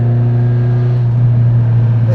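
A Ferrari 308's engine hums loud and steady from inside the cabin while driving, a constant droning tone with only slight rise in pitch and no pause.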